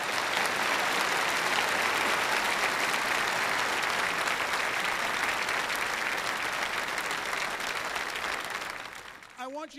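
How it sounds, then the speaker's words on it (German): An audience at a motivational speaker's event gives sustained, dense applause that fills the hall and fades near the end, where a voice briefly begins. "Geben Sie sich selbst einen Applaus dafür, dass Sie so viele Leben verändert haben."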